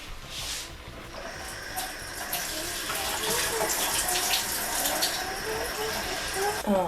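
Water pours from a tap into a pot of rice, a steady rushing gush that grows fuller as the pot fills, close and continuous with no talking.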